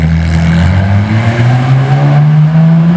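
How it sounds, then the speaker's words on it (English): A loud, deep exhaust from a Mercedes 300 SL Roadster's side-exit pipes drones steadily at close range, a throaty low rumble holding at a roughly even pitch with a slight rise near the end. "300 SL Roadster, side exit exhaust."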